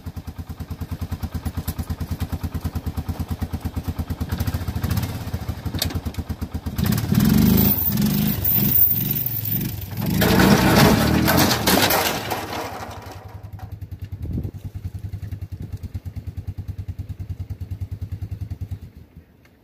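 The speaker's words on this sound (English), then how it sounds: "let's fucking get this mower out the back." An MTD riding mower's small engine runs steadily while the mower is driven off the back of a truck. Clanks and rattles come in louder bursts midway, then the engine settles to a steadier drone.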